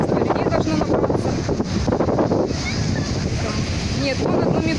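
Sea waves wash onto a beach at Lazurnoye in strong wind, a steady broadband roar of surf and wind buffeting the microphone throughout, with some voices faintly underneath.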